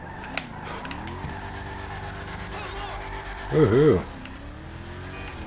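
A blue AC Shelby Cobra, shown in a video game as the Declasse Mamba, drives with a steady engine drone running underneath. A man briefly whoops over the engine.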